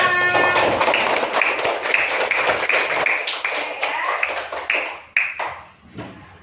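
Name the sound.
students clapping hands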